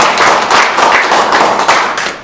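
A hall full of members at a civic association's general assembly claps vigorously in unison, a dense, close burst of hand claps lasting a couple of seconds with no talking.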